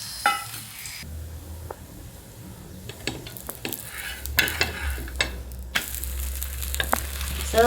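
Multigrain dhapate flatbread frying in oil on a pan, with a low steady sizzle that swells louder toward the end, broken by scattered clicks and scrapes of a utensil.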